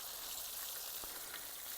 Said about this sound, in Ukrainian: ну і що ж, смажимо, смажимо